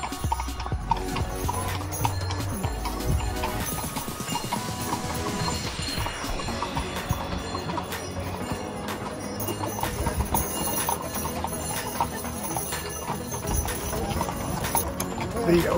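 Horse hooves clip-clop steadily on a road during a horseback ride through hilly countryside near the Bernina Pass, a continuous close rhythm running the full length with voices talking over it.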